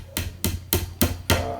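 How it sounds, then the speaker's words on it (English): A hammer taps wooden dowels into the holes of an IKEA Kleppstad armoire, five sharp, evenly spaced knocks close by with no talking. "Some of them would take some slight tapping with a hammer."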